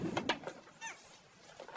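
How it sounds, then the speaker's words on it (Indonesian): A carrier pigeon coos softly a few times in a short series, close and fairly quiet against a calm background. "melihat merpati pos yang membawa pesan dan langsung mengusirnya"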